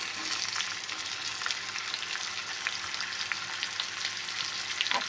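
Onion frying in oil for dry shrimp hisses in a steady, close sizzle with scattered crackles and occasional stirring, continuous throughout without talk.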